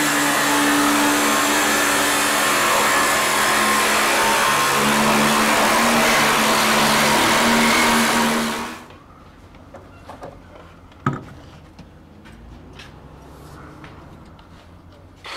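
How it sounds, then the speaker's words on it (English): Worn-out angle grinder with failing brushes whines loudly and steadily in a shop where a 1940 Chevy is being chopped, then cuts off abruptly, leaving a quieter room with scattered clanks and a sharp knock. "Might have killed your grinder."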